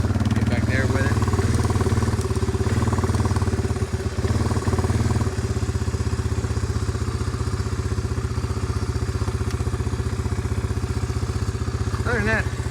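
A Suzuki Eiger 400 quad fitted with a new carburetor idles steadily and close by, its engine putting out an even, continuous rumble for the whole stretch, with a brief dip in level near the start and a voice talking over it.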